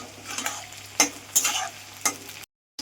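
Onions frying in a pan until brown for chicken kosha, a soft continuous sizzle broken by a few sharp spatula stirs and scrapes, close by, ending in a brief cut to silence.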